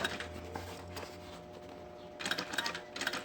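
A sewing machine stitching over an existing seam on a synthetic backpack, a soft steady whirring patter with a louder, busier burst of stitching near the end, close and fairly quiet.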